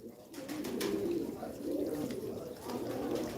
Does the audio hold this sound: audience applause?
no